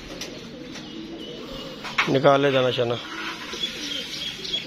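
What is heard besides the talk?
pigeons cooing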